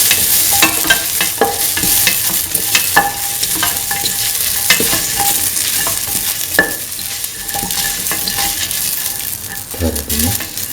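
Ginger fries and is stirred in a pan, a loud continuous sizzle with repeated scraping and tapping of the utensil against the pan, close up and with no talking.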